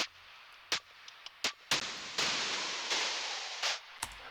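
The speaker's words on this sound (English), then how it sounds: "it's just like a drum beat, but it sounds like this because of this vocoder." Drum loop run through a vocoder whose release time is swept by a random LFO, giving sharp crackling hits and bursts of hissy, smeared noise that swell and decay unevenly, fairly quiet with no voice.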